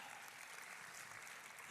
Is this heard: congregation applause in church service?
yes